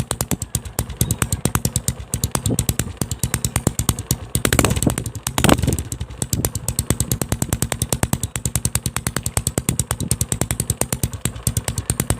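A Yamaha Scorpio motorcycle fitted with an IND manifold idles unwarmed, a close, loud, even chugging pulse with a short revving swell in the middle, no speech.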